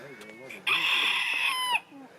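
A rooster crows once on a farm, a loud drawn-out call lasting about a second, preceded by softer clucking from nearby hens.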